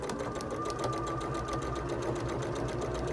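Sewing machine steadily stitching quilt sashing onto a T-shirt quilt at a quarter-inch seam, a fast, even mechanical whir with rapid needle ticking throughout, close and alone.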